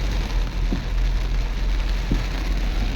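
Heavy rain hammers on a small minivan driving through deep floodwater on a road, a dense, constant roar of drops on the roof and body with a low rumbling undertone and no talking.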